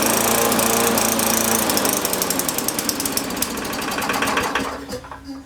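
A Yard Machines push mower engine runs loud and close with a fast mechanical clatter, revving too high as if overspeeding, then its note drops and thins toward the end.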